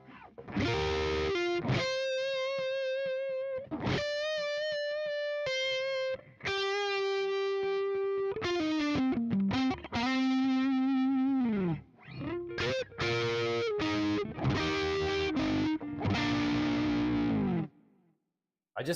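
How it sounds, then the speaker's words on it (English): Electric guitar with an ash body and a low-to-medium output neck humbucker, with mild crunchy overdrive, plays a melodic phrase of sustained notes and quick runs, clear and bright, ringing alone. "with a little bit of crunch, that neck pickup sound with the clarity of the ash body"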